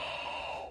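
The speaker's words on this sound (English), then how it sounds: "what you want to do right after you suck in all of that air is immediately blow it out" A single forceful breath blown out right after a deep inhale, a short, close, airy rush that fades at the end.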